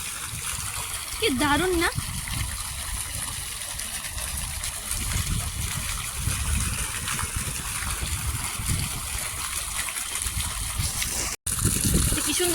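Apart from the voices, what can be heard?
water fountain splashing at Belfast Castle grounds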